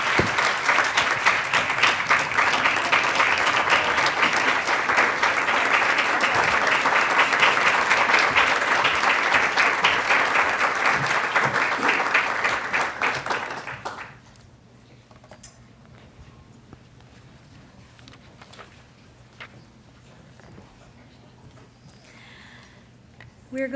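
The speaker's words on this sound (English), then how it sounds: "Please give her a round of applause" An audience at a Pride Month event at the State Department breaks into loud, sustained applause for about fourteen seconds, then quickly dies away, leaving a quiet room with faint scattered sounds.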